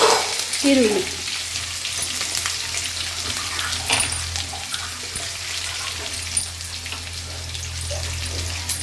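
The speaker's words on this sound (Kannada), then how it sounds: "ಬೆಂದ ನಂತರ ಕರಿಬೇವು ಮತ್ತು ಆನಿಯನ್," Curry leaves and onion sizzle and fry in hot oil in a pan, a steady close hiss with a burst of spattering at the start and occasional stirring scrapes, with no talking.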